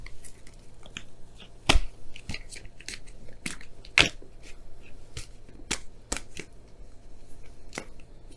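Oracle cards shuffled by hand, with soft crisp riffles and sharp snaps scattered over a low steady background hum, close and moderately quiet, with no voices.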